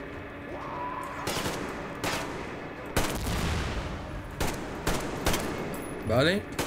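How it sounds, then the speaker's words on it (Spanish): Gunfire in the video game Metro Exodus: a series of sharp shots and short bursts, fairly close, spaced irregularly over a quiet background, with a brief voice near the end. "Se oye un disparo, ¿eh?"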